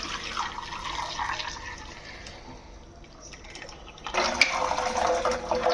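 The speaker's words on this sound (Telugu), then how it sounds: "బెల్లంలో రాళ్ళు చెత్త ఉంటాయి అందుకని వాటర్ వడగట్టుకోవాలి" Jaggery water pours and trickles through a strainer, a steady watery flow that eases off midway, then splashes louder near the end, with faint drips.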